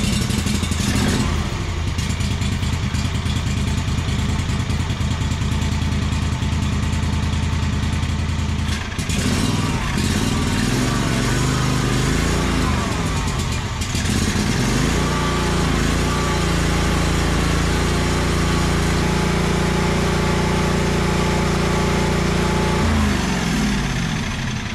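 The engine of a Yazoo Kees ZT Max zero-turn mower idles without choke, a loud, steady, close mechanical drone with a rattling clatter that shifts slightly in pitch partway through but never stops.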